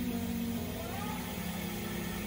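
A Lankeleisi/Cyrusher electric bike motor under throttle makes a steady mid-pitched hum with a high whine and dense broadband noise that stays at an even level throughout, with no voices.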